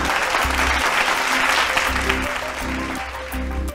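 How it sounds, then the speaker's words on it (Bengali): A studio audience on a Bengali family game show bursts into loud, sustained applause after a correct answer, dense clapping throughout. "জোরে হাততালি।"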